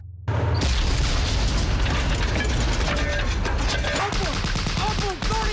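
Sticky bomb blasts and battle noise from the film Saving Private Ryan: a dense, loud roar of booms and gunfire that runs continuously, with occasional sharp metallic clanks and a voice faintly underneath.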